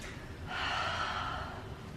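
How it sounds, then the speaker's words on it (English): One deep, slow breath drawn in and let out softly, a close, airy rush that swells for about a second and fades, alone in a quiet room. "Just breathing, deep breathing, low breathing, and slow breathing really helps to improve our CV system."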